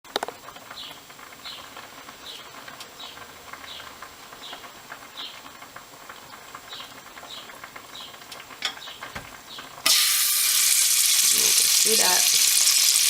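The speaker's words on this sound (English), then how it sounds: "put 3 spoons of oil, palm oil, inside this pot and fry my green pepper in there" Green pepper frying in palm oil in a pot for an ofada (ayamase) stew, a faint steady sizzle with soft crackles that swells abruptly into a loud, dense hiss near the end.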